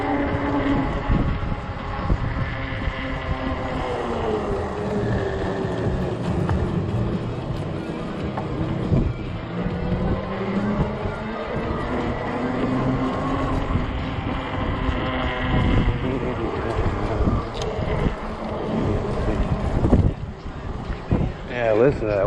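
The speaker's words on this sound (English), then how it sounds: "Yeah, listen to that wind." Strong wind gusts roar across the microphone while riding a 20-inch 48V Ecotric fat-tire e-bike on a hot day with 30 mph gusts, a steady loud rushing that swells and buffets throughout, with a person talking over it.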